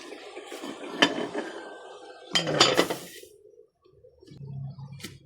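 A metal cooking pot being covered with its lid while vegetables cook, with a few sharp clanks and rattles of metal on metal, a louder clatter midway, then quieter shuffling; no talking.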